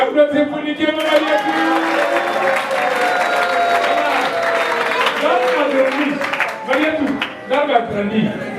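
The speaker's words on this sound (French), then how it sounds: "Applaudissez pour Nikéma marié" Audience applause with some cheering at a children's gospel-teaching church gathering, steady clapping from a crowd that holds for several seconds, with voices mixed into the noise.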